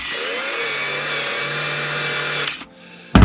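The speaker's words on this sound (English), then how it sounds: "Then I've got this Bosch toy, little electronic kids chainsaw" A Bosch electronic toy chainsaw for kids buzzes with a steady whining motor tone for about two and a half seconds, cuts out, and then gives a sharp click.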